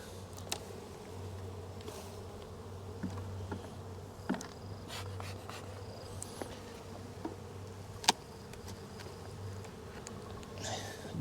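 Honeybees buzz around an opened beehive during a colony inspection, a faint, steady droning hum with occasional soft taps and rustles nearby.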